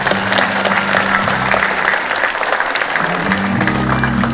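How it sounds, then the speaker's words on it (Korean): Welcoming applause from a ceremony audience at a joint declaration event in Yeongcheon, dense and steady throughout with a sustained musical tone underneath and a faint voice mixed in. "오늘을 위해서 환영의 박수 부탁드리겠습니다."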